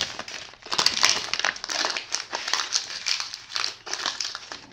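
A piece of paper bag is crumpled by hand into a wing shape, with close, crisp crinkling and rustling in repeated bursts and no voices.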